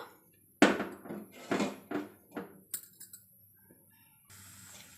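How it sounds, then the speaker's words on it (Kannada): A series of sharp metallic clanks and knocks as a cooking pot is set down and shifted on a gas stove, followed by a quiet hiss. "ಮೊದಲಿಗೆ ಗ್ಯಾಸ್ ಹಚ್ಕೊಂಡು ಒಂದು ಪಾತ್ರೆ ಇಟ್ಕೊಬೇಕು."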